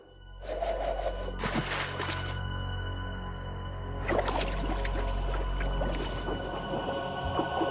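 In an animated Hindi cartoon, an object drops into water. Bursts of splashing and gushing water come over a sustained tonal musical backdrop, with a second, longer wash of water midway through.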